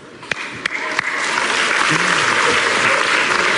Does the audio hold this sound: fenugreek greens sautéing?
no